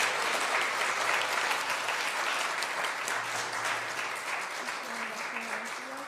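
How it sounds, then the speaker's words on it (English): An audience bursts into sustained applause at a community gathering after a story performance, a dense clapping crowd filling the room steadily and fading slightly toward the end. "Could we have a round of applause for Fox and Wiachaman?"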